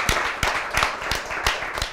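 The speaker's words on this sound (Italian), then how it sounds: "Dovete accoglierlo con un applauso un po' più forte" Applause for a cycling official at a cyclocross race, the Master Cross in Vittorio Veneto, with a few irregular claps spread over a short stretch, loud and close among a scattered outdoor crowd.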